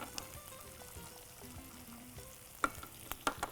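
Onions with peas, carrots and beans frying in a pan, a faint low sizzle under soft clinks and stirring knocks, with a couple of sharper scrapes toward the end.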